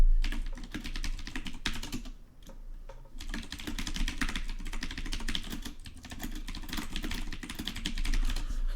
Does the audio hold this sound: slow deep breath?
no